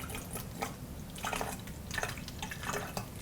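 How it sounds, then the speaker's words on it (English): Water poured into a canteen while preparing a Chili Mac MRE meal, a steady low splashing and trickling with small bright drips, fairly quiet and continuous throughout. "pour our water inside of our canteen"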